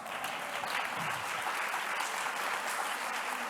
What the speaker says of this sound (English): please invite all of them with a big round of applause